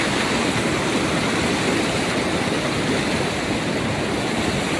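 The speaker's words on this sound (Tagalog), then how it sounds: "parang nakakatakot yung uh, bagsak ng tubig na yan" A river's water rushes over a drop, a loud, steady roar of falling water heard close by with no breaks.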